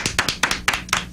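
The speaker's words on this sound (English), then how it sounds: "Oh, thank you for clapping." A few people clapping in a radio show studio, about eight quick hand claps in an uneven rhythm, close and loud with nothing else heard.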